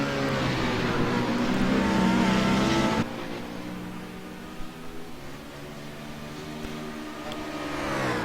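Star Mazda and BMW race cars at Road America, heard as steady engine drone at close range that drops suddenly in pitch and level, then hums on more quietly, like cars passing and pulling away on the circuit.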